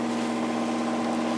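A sailing boat is motoring under engine off Studland Bay on the English south coast. Its motor makes a steady, close, droning hum with a constant low tone and no talk.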